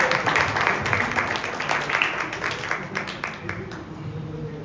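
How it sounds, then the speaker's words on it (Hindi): Sustained applause from a church congregation fills the room, a dense and steady patter of many hands that gradually fades over a few seconds. "जोरदार तालियां।"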